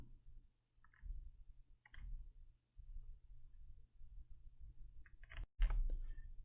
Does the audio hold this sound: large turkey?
no